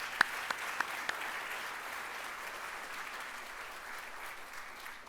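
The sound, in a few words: audience applause at opening ceremony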